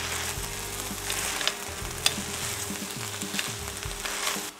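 Small cubes of apple drop into a beef filling for Aztec pie, which sizzles and crackles steadily in the pan as a spoon stirs with a couple of sharp scrapes, close and without talk.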